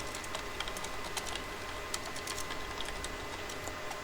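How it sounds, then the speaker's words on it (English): Typing on a computer keyboard while entering camera details into an NVR setup field, a steady run of soft, quick key clicks over a constant background hiss, no voices. "You just double click in the field, type in the camera details"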